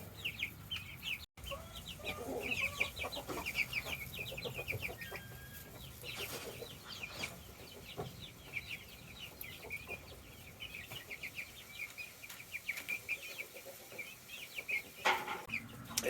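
A flock of meat chickens on a homestead clucks and chatters continuously nearby, with overlapping calls and a brief thump early on, and no talking.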